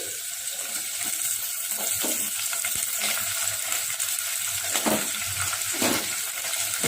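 Onion and green chilli sizzle steadily in hot oil, with scrapes and soft knocks from stirring scattered throughout, close and fairly loud with no voices.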